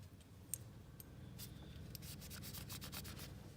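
A cloth rubs and wipes along a part of a Charles Daly shotgun during cleaning, a soft, steady close-up scrubbing with a few sharper strokes building toward the end.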